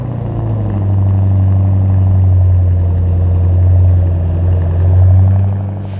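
A car engine rumbles loud and close for six steady seconds, rising and falling as it revs over a deep, throaty idle, with no talking.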